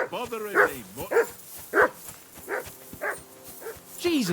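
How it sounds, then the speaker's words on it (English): Dog barking in Kingdom Come: Deliverance II, a run of loud, close barks and yips in irregular bursts, with a voice speaking over and between them. "Jesus, Henry, that barking's driving me nuts"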